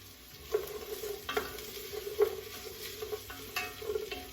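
Vegetables for a three-bean minestrone stirred in a pot over medium-high heat, a soft sizzle under repeated scraping knocks of a spoon against the pot, close and fairly quiet.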